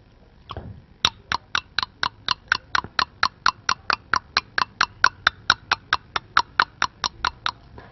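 A man imitates a clock ticking with his mouth, producing about two dozen crisp, evenly spaced clicks in a steady rhythm, close and clear against a quiet background.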